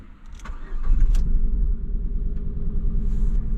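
A Ford Fiesta engine with one cylinder misfiring and a tendency to overheat cranks and catches, then settles into a loud, deep, uneven rumbling idle that carries on steadily nearby, with no voices over it.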